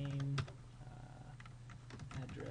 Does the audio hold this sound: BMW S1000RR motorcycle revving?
no